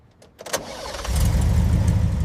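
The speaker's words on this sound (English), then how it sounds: "Listen to that V8." A rare vintage BMW's V8 engine cranks briefly with a few clicks, then catches and settles into a loud, steady, close idle rumble.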